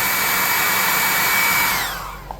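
A small dryer blows a steady, close whirring hum that then winds down and fades as it is switched off, with no talk.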